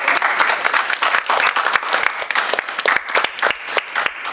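An audience gives speaker Smita Jayakar a round of applause at a literary gathering, loud dense clapping from a nearby crowd that runs without pause for the whole stretch.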